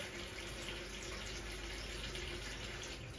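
Pumpkin flowers being rinsed under a running kitchen tap before frying with egg, a steady, continuous gush of water splashing into the sink, close and even throughout with no voices.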